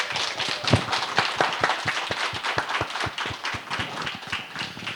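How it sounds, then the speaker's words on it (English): An audience in a room gives a round of applause for library staff at a Read Brave author event, steady mixed clapping from many hands filling the whole stretch at moderate volume. "give a big round of applause for all of our library staff in the room?"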